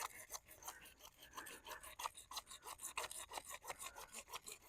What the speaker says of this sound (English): I just use this little hand saw